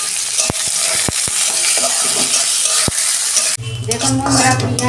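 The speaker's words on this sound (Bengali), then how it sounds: "দেখুন বন্ধুরা, পেঁয়াজটা আমি ভেজে নিয়েছি" Onions frying with cumin in a pan give a close, steady sizzle broken by sharp clinks of a utensil stirring, before a louder, busier burst of frying near the end.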